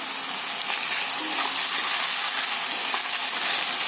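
Chopped onions frying in a pan for a chicken and potato curry, a dense continuous sizzle with crackling pops, loud and close, with no voices.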